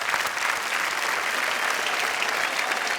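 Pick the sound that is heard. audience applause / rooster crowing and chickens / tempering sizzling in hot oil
audience applause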